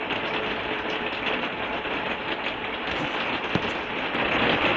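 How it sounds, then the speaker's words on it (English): Rain falling outdoors as a storm moves in, a steady broadband hiss of drops hitting surfaces that stays even and fairly close, growing slightly louder toward the end, with no voices. "Got some rain coming in. That's the rain here in the backdrop."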